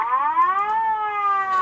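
Police car sirens wail as the cars pull up, a clear rising and falling electronic tone with strong harmonics, loud and close, with no voices over it.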